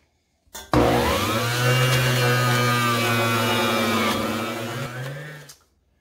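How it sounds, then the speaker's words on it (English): A juicer grinds pineapple skin, starting with a sharp click and then running as a loud, steady motor whine for about five seconds before winding down and stopping. "So I'm going to juice the skin of the pineapple."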